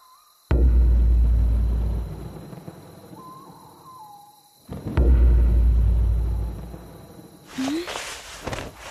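Two heavy booming rumbles, each starting abruptly and fading, like a deep drum struck in the distance, with a faint hooting tone between them.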